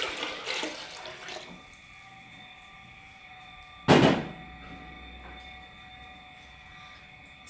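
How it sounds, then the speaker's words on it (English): Water poured from a tap into a cooking pot of peas for Jamaican rice and peas, a steady rushing stream at first, then a low hum with a single loud knock partway through. "what I'm going to do is to add around 4 cups of water to the pot"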